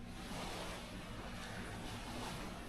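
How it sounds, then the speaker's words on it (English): Steady broadband water wash with low rumble, continuous throughout, lake water lapping against the shore at Evangola State Park, Angola, NY, with wind noise over the microphone. "I hear the water."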